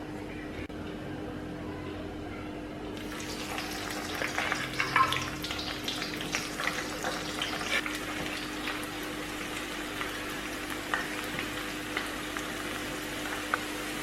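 Jackfruit chips fry in hot oil, a steady bubbling sizzle that swells after a quiet start and carries on close by with small crackles, no voices.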